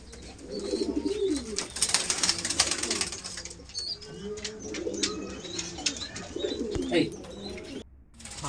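Pigeons in a loft holding baby birds for sale, including Indian breeds, coo repeatedly in low rolling calls with bursts of wing flapping, a busy close flock sound through most of the stretch.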